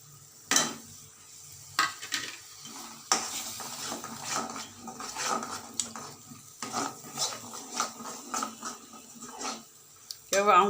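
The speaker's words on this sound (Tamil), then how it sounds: "வதக்கின பிறகு தேங்காய் அரைச்ச விழுதை அதையும் போட்டுக்கணும்." A spoon stirs ground coconut paste into sautéed drumstick masala in a pan, giving irregular scraping and clinking strokes with a faint sizzle, close and moderately loud.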